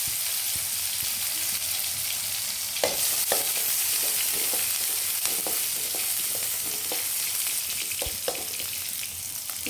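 Crushed small onions frying in a pan, a steady, close sizzle with scattered clicks and scrapes of stirring running throughout, no voices.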